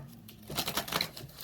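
Tarot cards are shuffled in one quick, faint riffle of papery clicks lasting under a second, with no one talking.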